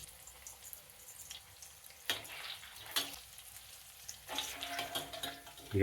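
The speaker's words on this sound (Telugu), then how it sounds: "నూనె కాగిందండి కాకరకాయ ముక్కలు వేస్తున్నాను" Bitter gourd pieces dropped into hot oil, a quiet sizzle rising in short bursts as more pieces go in, with a few soft clinks.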